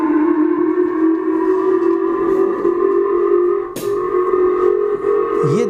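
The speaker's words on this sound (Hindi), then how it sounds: "यह जापान के अंदर सायरन बजाया गया है।" An air raid siren sounding in Japan during a North Korean missile alert, a loud sustained wailing tone held steady across the whole stretch with a slight dip midway, no voices.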